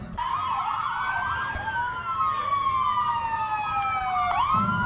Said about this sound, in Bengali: ঠিক সেই মুহূর্তে বাইরে থেকে সাইরেন বাজি।